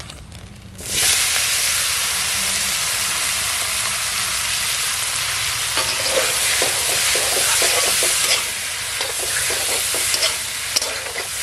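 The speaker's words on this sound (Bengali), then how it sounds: "এখন চিংড়ি ভাজা তেলের মধ্যে কচুর লতিটা ছেড়ে দেবো" Taro stolons drop into oil left from frying prawns, setting off a sudden loud hissing sizzle that holds steady, with repeated scraping stir strokes clattering through the latter half.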